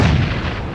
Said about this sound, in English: that explosion managed to clip over onto Randy